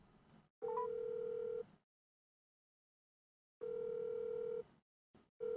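A telephone tone sounds while a call is being placed, steady beeps about a second long separated by silent gaps, heard close and clear with no talking.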